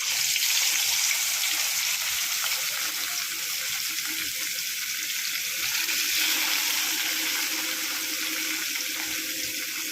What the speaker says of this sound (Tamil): பாருங்கள், மீன் நல்லா பொரிஞ்சிட்ருக்கு.